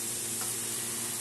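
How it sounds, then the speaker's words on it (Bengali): Potatoes fry with salt and turmeric in a pan, giving a dense, continuous close sizzle with a faint stir partway through. "এখন এটা ভাজা হবে, ভাজা করে নিই।"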